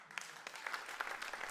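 Faint audience applause following a talk at a science webinar, a soft, steady patter of many hands clapping.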